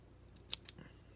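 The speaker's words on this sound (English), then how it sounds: "Scissors under the deck. Leg of cotton down. Score it. Chop it." Two quick, faint scissor snips through cotton wick in close succession, followed by a soft thud, over a low background hum.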